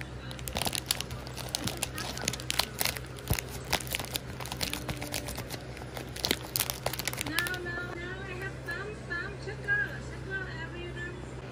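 Clear tape is pulled and handled while embroidering a ballerina design on a hoop: sharp crinkling snaps and ticks cluster close by for several seconds, then give way to a person talking over quieter handling noise.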